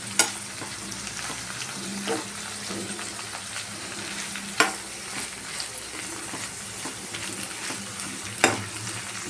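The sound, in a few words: frying and stirring brinjal with vegetables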